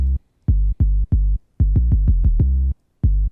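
Deep, booming 808 bass notes hit in a syncopated pattern, each thick and sustained with abrupt cutoffs and silent gaps between, dry and unprocessed.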